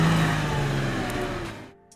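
Toyota Land Cruiser engine droning in low gear off-road, a close, steady mid-pitched rumble that slowly fades and cuts out near the end.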